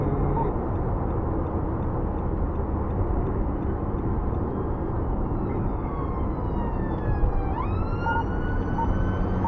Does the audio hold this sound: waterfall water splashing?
no